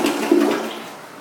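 A new water-efficient toilet flushes in a remodeled bathroom, one short, close whoosh of rushing water that quickly fades.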